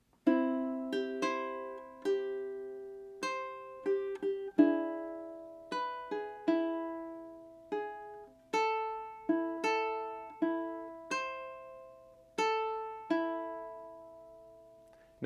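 Song intro played on ukulele, three measures of plucked notes and ringing strums in a steady pattern, each attack decaying cleanly, close and alone without talk.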